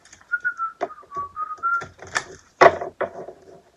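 A person whistles a short, cheerful tune alone, clear melodic notes for under two seconds, followed by a few brief clattering knocks.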